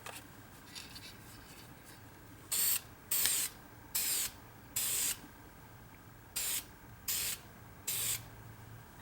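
Seven short bursts of aerosol hiss spraying brown patina stain, each about half a second, separated by pauses, close and fairly loud over a quiet room.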